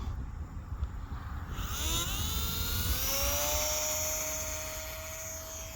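A small Eachine Mini P-47 Razorback RC model airplane, 500 mm wingspan, whines past with a rising, buzzing electric motor tone that swells and slowly fades as it flies around.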